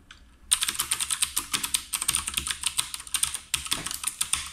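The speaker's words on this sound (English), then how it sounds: "So this is the DOS Keyboard 4 Professional Clicky MX Blue Mechanical Keyboard." Rapid clicky typing on a Das Keyboard 4 Professional mechanical keyboard with Cherry MX Blue switches, a steady stream of crisp, close keystrokes with sharp clicks and no voices.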